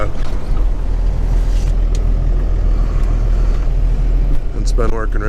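Cummins-powered Ford Excursion plowing snow, a loud, steady engine drone with a constant low rumble, and a brief voice near the end.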